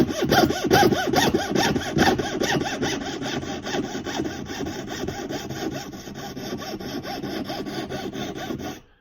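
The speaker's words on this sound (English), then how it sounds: "listen for the tone to change whenever you're cutting through any type of material. And just before you cut all the way through, you will hear that pitch drop" Hand saw cutting through a metal tube in a metalsmithing setup, a close, fast rhythmic rasp of back-and-forth strokes that steadily thins and fades as the blade nears the end of the cut, then stops abruptly.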